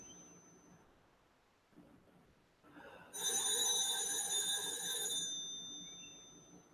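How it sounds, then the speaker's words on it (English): A telephone rings as a sudden, loud, continuous bell-like trill lasting about two seconds, then fades into a lingering tail. It is heard alone, with no talk. "Maybe answer the phone, huh?"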